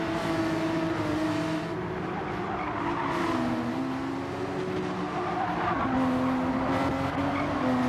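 Race cars in a racing video game brake and turn through a chicane, engines droning loudly and continuously with shifting pitch as revs fall and climb, plus tyre squeal mixed into the dense engine noise.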